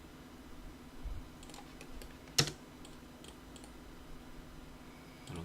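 Scattered keyboard taps while someone works in CAD software, one sharper louder keystroke like an Enter press standing out midway among quieter clicks, close up over a low room hum, no talking.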